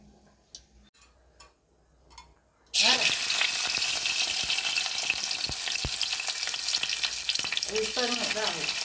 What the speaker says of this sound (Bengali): এই রসুন আর নারকেল কোড়াটাকে একবার ঘুরিয়ে নিলেই হবে